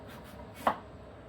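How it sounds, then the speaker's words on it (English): A knife slices through an apple on a cutting board, a single short, crisp cut standing out against quiet kitchen background. "this apple had a bad spot on it. So I'm slicing around that."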